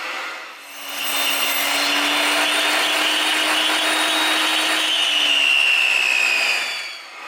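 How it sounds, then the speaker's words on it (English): Table saw cutting a 5mm slot into small wooden pieces in a workshop, a steady whining motor hum with a rising cutting buzz that fades at the end, no talk. "Now we move the fence over to give us our 5mm cut, and run our pieces through."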